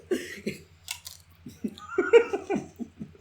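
Crunchy snack being chewed close to a podcast microphone, with short irregular crunching bursts, a cough and soft giggling mixed in.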